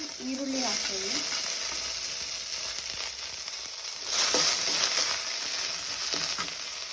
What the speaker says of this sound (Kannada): ಫ್ರೈ ಮಾಡ್ಕೊಳ್ಳೋಕ್ಕೆ ಫಸ್ಟು ಗೋಡಂಬಿ ಹಾಕಿ ಮತ್ತು ಅದೊಂದು ಸ್ವಲ್ಪ ಹುರ್ಕೊಂಡು